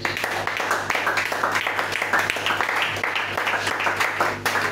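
A church congregation applauds and acclaims Jesus with steady, dense clapping that carries on without a break. Scattered voices mix into the applause.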